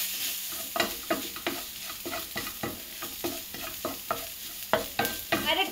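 Onion, garlic and a small piece of ginger sauté in a pan for a mutton dish while a spoon stirs, giving rhythmic scraping strokes over a soft, steady sizzle, close by and with no talk.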